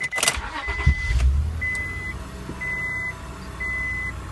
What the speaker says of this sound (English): So you see, it starts up nice.